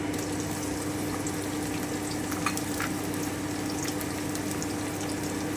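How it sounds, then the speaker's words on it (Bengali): Steady sizzle of chopped onion and crushed garlic frying in oil in a pan, a continuous crackling hiss with a few small pops, close and even throughout. "আমি ভেজে নিচ্ছি একটু ভালো করে"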